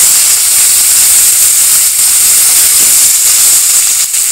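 Kohlrabi hitting hot oil tempered with dried red chilli, green chilli and five-spice seeds gives a loud, steady, close hiss of sizzling and steam that runs unbroken throughout.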